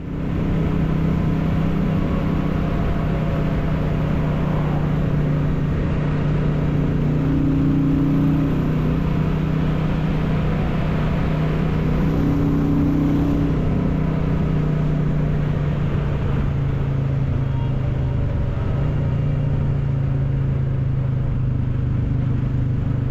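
A Royal Enfield Classic 350 motorcycle on the ride home from an old WW2 firing range, its engine giving a steady low rumble and whir throughout with wind noise, loud and continuous with slight changes in pitch.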